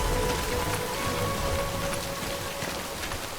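Steady rain pours down in the video game Death Stranding, a dense, even hiss that holds at the same level throughout with no voices over it.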